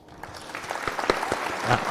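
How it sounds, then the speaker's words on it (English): An audience at a talk breaks into applause, a dense crackle of many hands clapping together that builds slightly over two seconds, moderately loud and close. "let's get an applause there."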